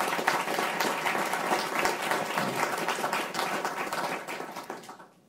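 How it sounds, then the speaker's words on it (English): Audience applause at a talk on global political economy, a dense, steady wash of many hands clapping close and loud for several seconds before thinning out toward the end. "we need a round of applause for that achievement in itself"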